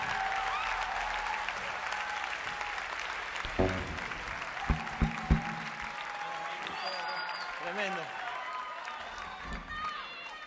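Live concert crowd applauding and cheering for a guest at a band's show, a steady wash of clapping with shouts and a few louder close claps, voices rising over the din.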